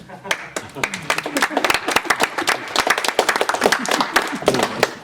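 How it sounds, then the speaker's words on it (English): A room of people at a formal hearing breaks into scattered, uneven clapping that builds into fuller applause, sharp individual claps standing out close by. "Don't normally get applause."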